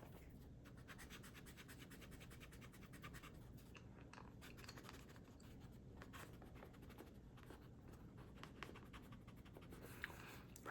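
Erasable pen marks are rubbed out on paper during logic puzzle solving, a close, soft, continuous scratchy rubbing with small irregular strokes and no speech.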